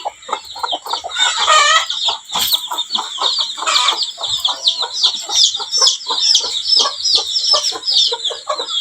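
Village hens clucking and chattering in a busy, continuous chorus close by, with rapid repeated clucks and a few louder squawks, no talk over them.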